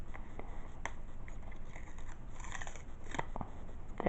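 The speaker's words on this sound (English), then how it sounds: "So, apparently we're supposed to tear this open." Eco-friendly paper packaging of an Anker Lightning to USB cable is torn open by hand, a close, scratchy ripping and crinkling that continues steadily with small sharp snaps and no speech.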